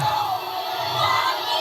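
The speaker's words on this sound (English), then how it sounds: "they're booing her because she said the N-word" A large crowd boos loudly and continuously at a woman on stage, a dense, sustained roar of many voices heard as playback of a recorded event.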